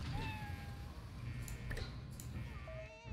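A cat in the video game Fallout Shelter gives a few soft, thin meows over steady game background noise, faint and somewhat distant.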